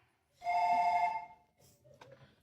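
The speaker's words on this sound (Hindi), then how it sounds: "जहाज में कोई फोन बजाता है क्या?" A mobile phone ringtone sounds aboard an airplane, a single clear tonal ring about a second long, followed by faint rustling and a brief click.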